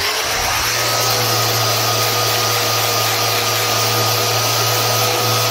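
A small electric palm sander runs steadily on a wood floor that was damaged by the wrong finishing products, with a loud continuous whir and buzz from start to finish and no talking.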